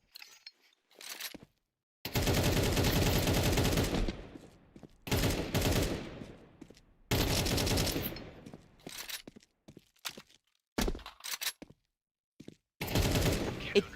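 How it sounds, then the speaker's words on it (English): In a video game firefight, bursts of gunfire come in several loud clusters with silent gaps between them, no voices heard. "Ignis barely survives a brutal firefight from the box"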